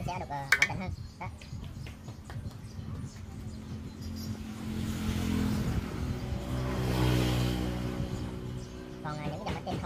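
A Stihl 030 chainsaw with an ignition fault that loses spark is started. A few sharp pulls come first, then the engine catches and runs with a wavering, rising rev. People talk over much of it.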